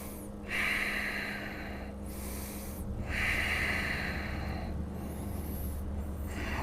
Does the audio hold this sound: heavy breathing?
yes